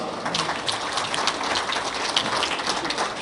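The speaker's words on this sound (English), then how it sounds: "Round of applause for them." Sustained applause from the audience at a fundraising dinner, a dense, steady patter of many hands clapping at once with no gaps.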